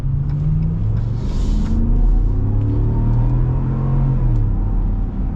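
A Ram 1500 Rebel pickup truck with a Hemi V8 engine rumbles loudly and steadily up close, its deep drone rising and falling slightly as it revs, with no voices.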